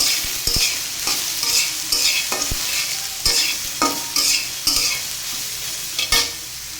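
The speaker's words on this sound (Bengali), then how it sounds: "এখন এটাকে তেলে ভেজে নেব।" Soaked soybeans fry in hot oil, a continuous sizzle punctuated by sharp scraping stirs and taps at an uneven pace, close and loud, without speech.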